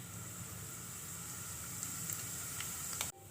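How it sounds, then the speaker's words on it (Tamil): Cumin seeds sizzle in hot oil in a kadai, a steady close crackling hiss that holds evenly for about three seconds and then cuts off abruptly. "சீரகம் நல்லா பொரிஞ்சிருச்சு."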